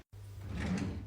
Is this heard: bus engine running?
no